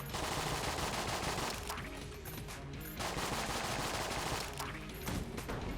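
Rapid pistol fire in the video game Enter the Gungeon, a dense continuous stream of shots under game music and effects, moderately loud.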